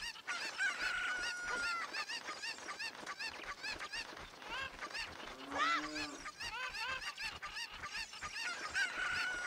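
Cucco chickens from Ocarina of Time 3D clucking and honking in a dense, steady flock chatter, loud and continuous, with one lower drawn-out squawk standing out partway through.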